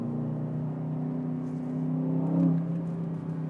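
An Aston Martin DBX SUV takes a flowing left-hander, its engine a steady in-cabin drone with a tonal hum that swells briefly under light acceleration before settling back.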